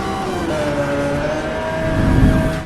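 Racing cars roaring through a round of Need for Speed Most Wanted on Android, a steady engine drone with rising, sliding tones that swells louder toward the end, no talk over it.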